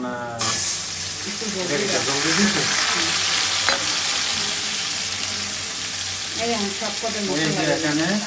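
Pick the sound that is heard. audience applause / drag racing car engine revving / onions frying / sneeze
onions frying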